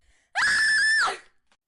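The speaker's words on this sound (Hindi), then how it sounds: "पिंकी की एक चीख गूंजी" A girl's single piercing scream in an animated Hindi horror story, loud and sustained for about a second before breaking off abruptly into silence.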